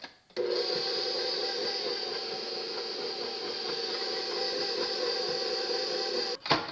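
An electric mixer beats cake batter for a sweet potato cream cheese bundt cake on low speed, a steady, even motor hum with light clattering that starts abruptly and runs unbroken for several seconds.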